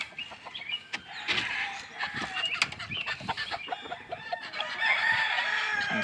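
Chickens in a brood pen of non-bearded buff birds cluck and squawk close by in short irregular bursts, with a cockerel and hens calling over each other and no talk.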